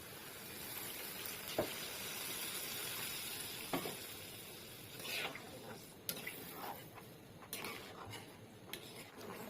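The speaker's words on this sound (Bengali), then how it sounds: "ডালটা কিন্তু ফুটে গেছে।" Pre-boiled dal, fried down and then topped with water, bubbles and sizzles faintly in a pot for a dhaba-style tarka dal, with a few soft utensil clinks and scrapes scattered over the quiet hiss.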